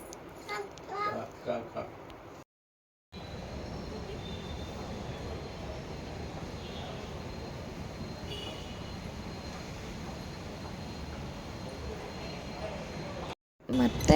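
A metro train ride gives a steady, even rumble and hiss of the carriage in motion, with brief talk at the start and end.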